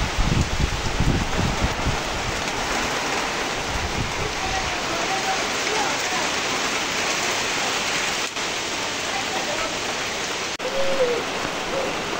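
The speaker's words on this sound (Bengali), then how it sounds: "বাইরে তো অনেক বৃষ্টি, সেই জন্য ঘরে চলে আসছি" Heavy rain pours in a dense, constant hiss, loud and unbroken, with a faint voice briefly audible beneath it.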